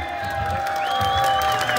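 A concert audience at a heavy metal show applauds and cheers in a loud, continuous roar of clapping and whoops, with a sustained tone ringing through it.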